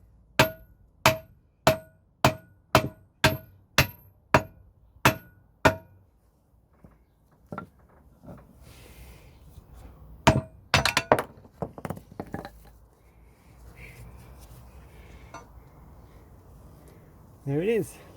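A hammer striking a VW T3 ball joint, eleven sharp metallic blows in an even rhythm, followed by clinks, clatter and handling noises while someone talks.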